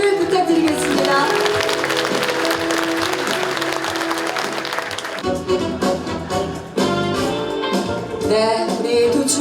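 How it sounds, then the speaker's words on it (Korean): An audience applauds at the inauguration ceremony of Uljin County's governor in Korea. Dense, loud, continuous clapping fills the first half, then gives way to music. "여러분 감사의 마음을 담아서 환함의 박수를 부탁드리겠습니다."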